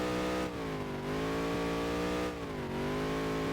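Race car engine in a NASCAR dirt-racing video game, a loud sustained high-pitched roar that dips and climbs twice as the revs change, close and steady throughout.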